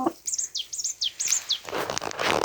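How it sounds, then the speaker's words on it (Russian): A small bird chirps close by in a quick series of bright, rising tweets, followed by a burst of rustling noise. "Ой, птичка."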